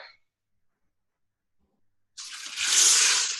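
Four cups of water poured into an empty Instant Pot holding a pound of whole grain elbow noodles: a steady, close splashing pour that begins suddenly after near silence and swells toward the end.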